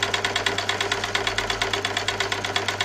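A blind hemming felling machine stitching a hem in white thread runs at a fast, even pace, each stitch a clear mechanical tick over a steady motor hum, close and continuous.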